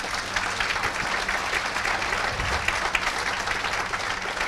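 An audience at a business leaders' breakfast gives steady, dense applause, a continuous wash of many hands clapping at moderate distance with no voices over it.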